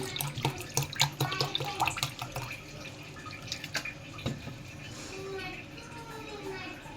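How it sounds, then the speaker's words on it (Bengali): Cold water splashes and trickles into a bowl of strained tamarind for a drink, in uneven bursts, with clinking and handling noises, fairly close, no voices. "এবার এর মধ্যে ঠান্ডা পানি দিয়ে দিচ্ছি।"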